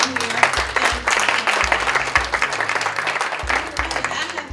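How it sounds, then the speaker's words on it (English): A live audience applauds at a gathering, a dense, steady patter of many hands clapping at close range, with a low musical hum running beneath. "can we give everyone a round of applause for being here?"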